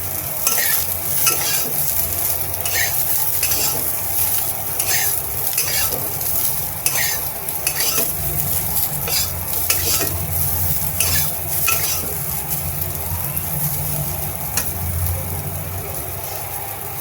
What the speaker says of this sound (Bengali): একটুখানি কপিটা একটু ভাজবো